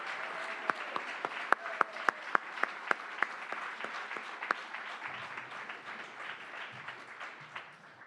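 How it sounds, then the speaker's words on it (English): An audience claps at a report launch, a fairly quiet round of applause with a few sharp, distinct claps standing out early, then a softer patter that gradually thins. "Can I get one more round of applause for Commissioner Kiss"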